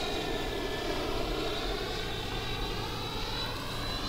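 A Freewing B-2 Spirit model bomber with twin 70mm electric ducted fans flies overhead, giving a steady, fairly distant whining roar that holds constant throughout.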